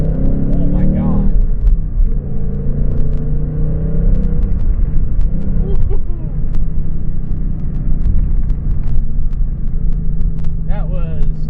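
A Ford Mustang GT accelerates hard from about 15 to 50 mph, its engine rumbling loudly and rising in pitch inside the cabin while people talk over it.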